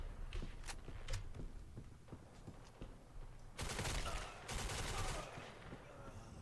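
Gunfire from the online shooter Black Squad comes as a series of sharp shots and then two dense bursts of automatic fire, with soft footstep-like thuds between them. No one speaks.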